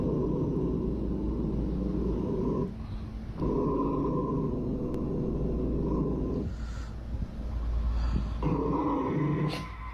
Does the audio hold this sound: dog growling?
yes